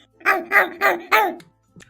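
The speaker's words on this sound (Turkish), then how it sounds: "Sonic de böyle havlıyor." A small dog in a Minecraft game, a pet turned into Sonic, lets out four quick, close barks in an even rhythm, followed by a faint short yip.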